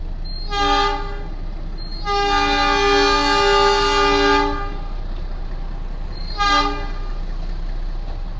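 A heritage meter-gauge train departing Marwar Junction in Rajasthan sounds its horn loudly three times: a short toot, a long sustained blast, then another short toot, over steady rumbling rail noise.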